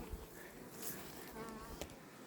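Close buzzing of honeybees hovering around, a steady droning hum with a few sharper passes.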